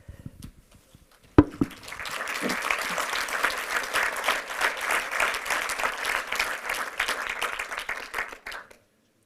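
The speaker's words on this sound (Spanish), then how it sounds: "Gracias otra vez por este espontáneo aplauso" An audience at a crowdfunding platform presentation breaks into spontaneous applause, starting with a few claps before swelling into sustained, dense clapping from a nearby crowd, then stopping abruptly.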